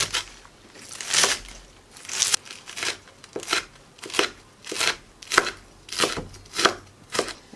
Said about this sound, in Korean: 미나리도 이제 위에 부분만 잘라주겠습니다.